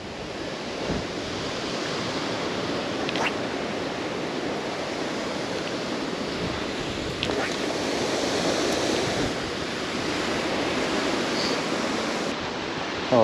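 Wind gusts across the River Spey, a broad rushing roar buffeting the microphone steadily with a few surges and soft thumps, no voices over it.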